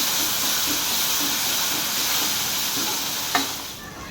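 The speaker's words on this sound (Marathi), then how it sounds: "कांदा चांगला लाल परतला आहे." Chopped onion sautéing in oil over a medium-high flame for a Puneri misal, a steady close sizzle and hiss throughout, with one brief clink of a spoon near the end and no voices.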